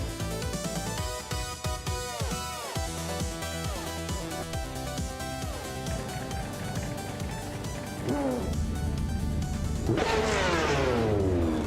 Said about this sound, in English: Penny 3 is kicking things off from pole position in a classic 1984 Ferrari 288X GT